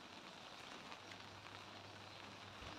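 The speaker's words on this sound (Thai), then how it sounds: "วันนี้ก็ฝนตกนะคะทุกคน ให้ชมบรรยากาศฝนตกนะคะ" Light rain falls steadily in Phayao, Thailand, a soft, even hiss of drops that stays quiet and continuous throughout, with no voices.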